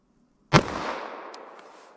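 A single sharp .45 ACP gunshot from an ammunition test cracks out after a moment of silence, then its echo fades away over the next second and a half.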